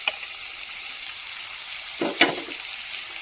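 Flat beans and eggplant frying in a wok along with mixed vegetables for a cauliflower-stem chorchori, a steady close sizzle with a couple of brief louder stirring scrapes near the end, no talk.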